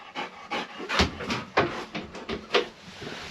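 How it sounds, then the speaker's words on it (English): A dog pants close by, steady rhythmic breaths, roughly two per second, loud and breathy. "Here's a dog."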